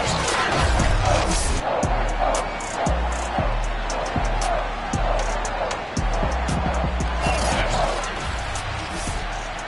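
A sold-out stadium crowd roars throughout an EA Sports NFL football game between the New England Patriots and Indianapolis Colts, with a loud continuous cheer and repeated thumping impacts beneath it.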